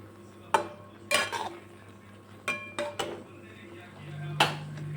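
Sweet sev and dry fruits stirred in a pan, giving a few sharp metallic clinks and scrapes at irregular intervals over a low background hum.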